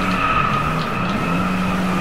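A car skids in the Driveclub racing game, with a sustained loud tire squeal over a droning engine for two seconds.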